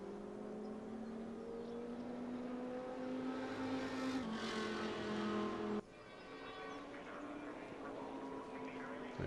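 Red Audi race car in a sim racing game at Mount Panorama, engine droning steadily at high revs along the final straight, with a brief sharp rise in pitch partway through and a sudden drop, close and continuous.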